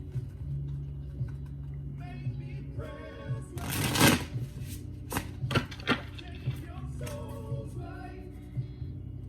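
Tarot cards being shuffled close up, a few riffles and crisp flutters with a louder burst in the middle, faint speech in the background.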